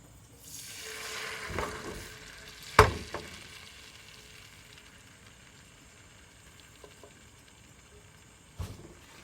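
Beaten egg poured into a lightly oiled pan for tamagoyaki, a soft sizzle swelling at first and then settling into a quiet, steady fry, with a couple of sharp clinks of a utensil against the pan.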